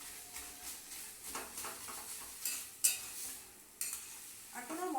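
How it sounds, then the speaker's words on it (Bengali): Mustard oil stirred into a mashed bottle gourd dish in a pan, a soft scraping and light sizzle with a few sharp clinks of the spoon against the vessel, close and fairly quiet with no talk. "সর্ষে তেল দিয়ে দিতে হবে।"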